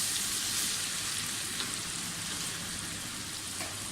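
Spice paste frying in a pan over fried onions for palak gosht, a steady close sizzle and crackle running throughout with no talk.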